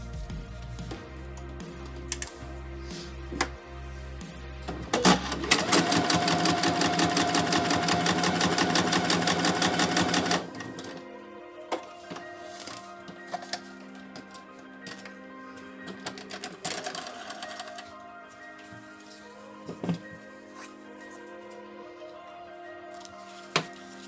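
A sewing machine runs an eighth-inch seam on crazy-quilt fabric, with a few slow stitches, then a fast steady whir lasting about five seconds, followed by quiet handling clicks and a few single stitches.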